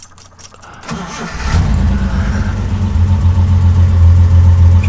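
Engine of a Reliant car cranking over on the ignition and catching, settling into a loud, steady low idle that carries on close by, with no talking.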